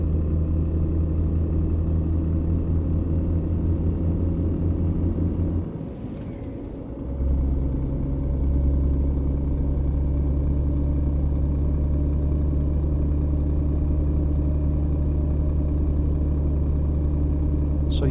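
A heavy truck in On The Road Truck Simulator, a PS5 driving game, running on a German highway near Rostock and Hamburg, gives a steady loud engine rumble. It dips briefly, like a gear change, then picks up again and holds a continuous drone.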